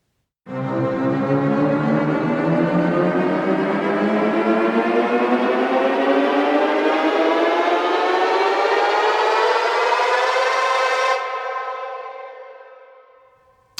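Synth riser built in Logic Pro, a dense stack of harmonics sweeping steadily upward for about ten seconds with heavy reverb, then cutting off into a slowly fading wash with a slight phasey shimmer at the tail.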